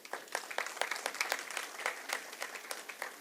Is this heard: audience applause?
yes